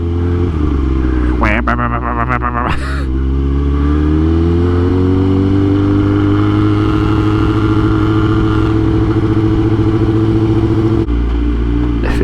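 A motorcycle engine revving hard up close, with a couple of sharp blips early on and then a long, steady, loud roar held for several seconds before dropping back.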